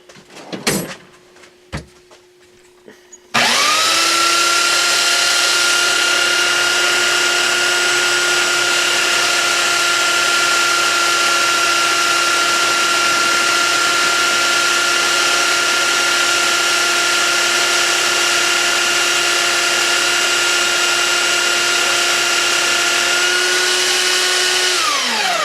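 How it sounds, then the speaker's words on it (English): A belt sander starts after a few light knocks and then runs continuously on a snowblower part, a loud, close motor whine with a steady hum and belt rush that holds for over twenty seconds before winding down slightly at the end. "we'll see what we get out of it on the belt sander"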